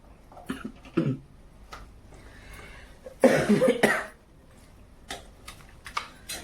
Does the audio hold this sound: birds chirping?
no